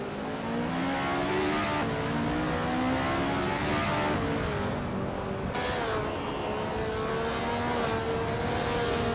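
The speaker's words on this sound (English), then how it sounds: "The Lightning Thief is in 10th place driving a 1967 Matra MS7 Top" Engine of a 1967 Matra MS7 race car in a racing video game, a steady, loud high-revving whine with shifting pitch and brief gear-change breaks, continuous throughout with no talk.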